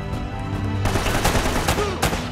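Gunfire in the video game Uncharted: Drake's Fortune, with a sustained low rumble, then a fast run of loud shots rattling over it, and one sharp crack standing out near the end.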